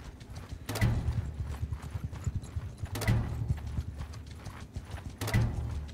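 Horse hooves clip-clop in a steady galloping rhythm in Mount & Blade 2: Bannerlord, close and continuous, with brief louder clattering bursts recurring every couple of seconds.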